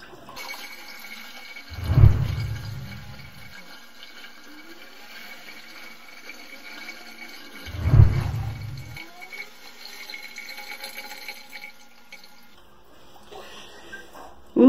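A Praxis Petit mini washing machine of 1.2 kg capacity draining water after the rinse; two brief gushing surges of draining water a few seconds apart over a faint background hum, fairly quiet overall.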